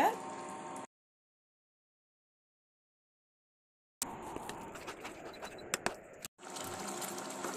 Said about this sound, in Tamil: இதுல கொஞ்சமா தண்ணி ஊத்திப்போம்